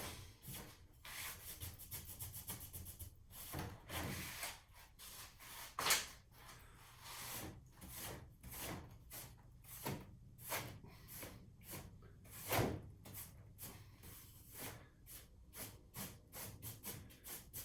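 Soft bristle strokes of a paintbrush sweep sawdust off a wooden picture frame in repeated close brushing passes, with occasional louder swipes and no talk.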